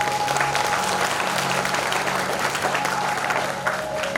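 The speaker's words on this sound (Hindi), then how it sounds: "एक बार ताली बजाओ सभी अपने लिए।" Loud audience clapping at a gathering, continuous dense applause from many hands throughout, with a slight dip near the end.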